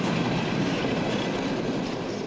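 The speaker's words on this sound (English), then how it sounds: "a Union Pacific train breaks through the fog as it pulls into the rail yard" A Union Pacific freight train rolls into a rail yard in Little Rock, Arkansas, its wheels and cars producing a steady, dense rumble with rattling and faint squeal, loud and continuous throughout.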